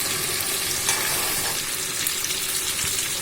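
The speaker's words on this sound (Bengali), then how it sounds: "এবার এর মধ্যে ইলিশ মাছগুলো দিয়ে দেওয়া হচ্ছে। এবার ভালো করে মিশিয়ে নেওয়া হচ্ছে।" Hilsa fish fries loudly in a mustard sauce while being stirred, a dense close sizzle with soft scraping of the spoon and no voices.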